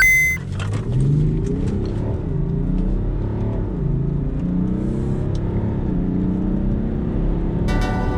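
A 2015 BMW X5 xDrive35d diesel SUV accelerating hard in sport mode, its engine droning up through several rising gear sweeps with steady rumbling road noise, loud and continuous with no talking.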